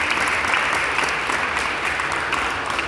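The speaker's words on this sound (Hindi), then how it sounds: "सब अपने लिए ताली बजाएंगे" Women at an International Women's Day church gathering clap for themselves, producing steady, dense applause that holds evenly for the full stretch with no talking.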